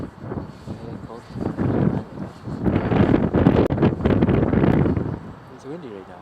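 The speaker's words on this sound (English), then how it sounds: "It's windy right now." Strong gusty wind buffets the microphone outdoors, with loud, uneven rushing surges that build and fade over several seconds, peaking in the middle.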